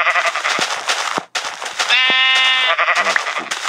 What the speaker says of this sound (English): Got some sheep over here for me to kill.